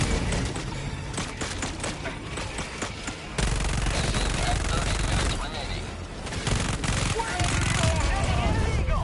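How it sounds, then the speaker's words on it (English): Mortar fire in a shooter video game: dense, continuous booming and rattling blasts with heavy low rumble, loud throughout, with a voice talking over it. "3 direct mortars to the face was crazy."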